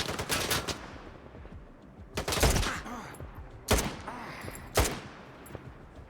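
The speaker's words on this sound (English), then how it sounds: "Three shots to kill that guy." Three loud, sharp semi-automatic gunshots from S.T.A.L.K.E.R. 2, spaced a second or more apart, each a broadband crack with a short echoing tail, over a low background rumble of game ambience.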